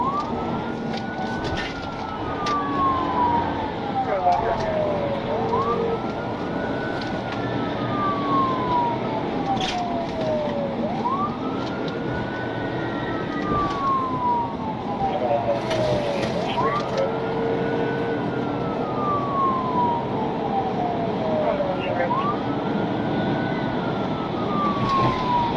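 A police car siren wails, rising and falling in long repeated sweeps during a chase, steady and fairly close, over a constant background rumble of traffic.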